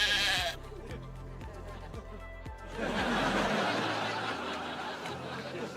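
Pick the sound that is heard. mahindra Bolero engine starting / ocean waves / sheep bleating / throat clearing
sheep bleating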